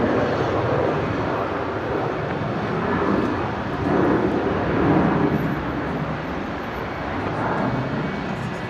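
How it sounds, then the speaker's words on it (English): Velocity 73 airliner departing Brisbane International Airport: a broad, steady jet roar swelling and easing slightly as it climbs away, loud and sustained without talk. "let's pan around quickly for the departure of the Velocity 73"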